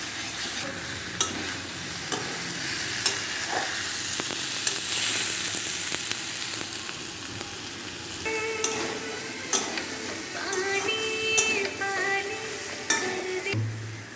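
Fried soybean chunks and potatoes are sautéed for a curry, with a steady sizzle under repeated scraping and stirring of a spatula around the pan, close by, with occasional light taps and no talking.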